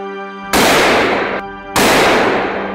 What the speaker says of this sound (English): I pulled the trigger, and the burst of gunfire sent the entire pack fleeing into the darkness.